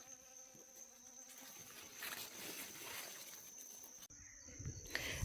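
Honeybees and native bees buzzing around plants in a subtropical autumn vegetable garden, a faint, continuous droning hum with insects passing close by now and then.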